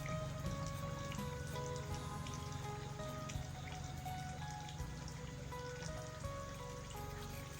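Rain falls steadily at a rural house in Thailand, a dense continuous patter with dripping water mixed in, close and even, with no talk.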